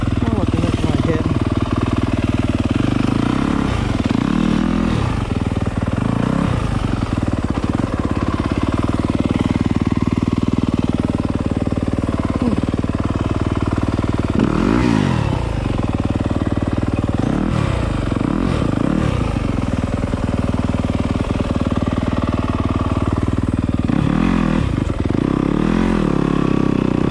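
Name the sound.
Yamaha YZ250 dirt bike riding an enduro trail in snow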